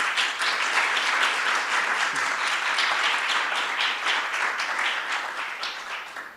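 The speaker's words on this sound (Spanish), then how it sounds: "Damos también un aplauso a Cristina." Steady audience applause at a Spanish-language conference, honoring a speaker named Cristina, with dense clapping from a full room that holds even and then thins slightly toward the end.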